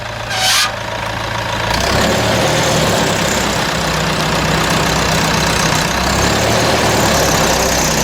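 A vintage Nuffield tractor engine is cranked and fires, then settles into a loud, steady, low rumbling run close by that continues to the end without talk.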